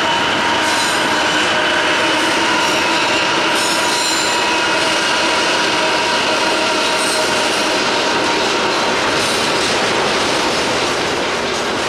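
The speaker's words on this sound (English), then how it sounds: "If we didn't know about this train, we wouldn't be chasing it by now." A train rolls past loudly and continuously, wheels rumbling and squealing against the rails, the clatter holding steady throughout.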